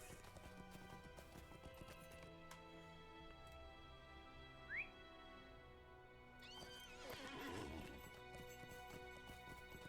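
Hooves clop steadily at a gallop beneath game music, then a horse neighs loudly near the end, in the video game The Lord of the Rings Online.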